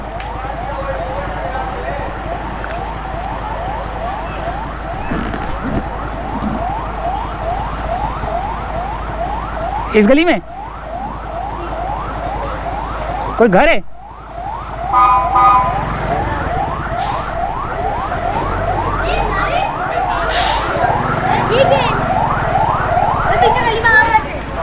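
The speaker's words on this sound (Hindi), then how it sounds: "एम्बुलेंस आ रही है।" A loud wailing ambulance siren sweeps up and down repeatedly, close by, during a fire in Karachi, with people talking over it and sharp bumps at intervals.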